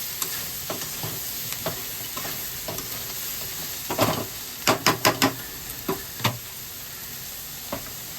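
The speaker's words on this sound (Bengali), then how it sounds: "সয়াবিনটা যদি একটু ভেজে নেই না, তাহলে খেতে বেশি ভালো হয়।" Soybean chunks fry in a pan with a steady broadband sizzle, punctuated by a series of sharp scraping and stirring clacks, several in quick succession midway, with no talking.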